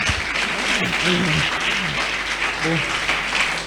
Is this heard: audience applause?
yes